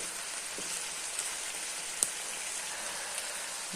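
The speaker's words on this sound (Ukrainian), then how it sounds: "Перемішуємо і підсмажуємо цибульку." Onions frying in a pan for shpundra with beetroot, a steady dense sizzle and crackle throughout, with a few sharper pops standing out over the constant hiss.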